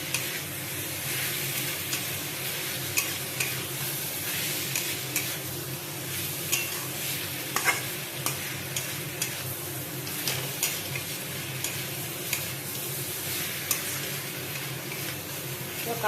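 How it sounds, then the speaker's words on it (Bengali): Fried paneer pieces are stirred into thick masala in a pan, giving a continuous sizzle with regular scraping stir strokes and occasional clicks of the spatula against the pan. "পনিরটা দিয়ে কিছুটা মশলাগুলোকে একটু কষাবো"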